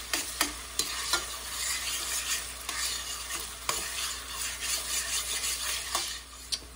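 Chopped onions browning in a pan for corn chowder, with a steady close sizzle and frequent scraping stir strokes from a spoon. Light clicks of the utensil against the pan come through, and no one speaks.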